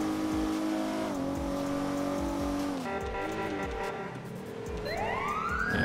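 A police siren in the video game GTA 5 wails in rising and falling sweeps over a car engine's pulsing hum, with the siren climbing sharply at the end.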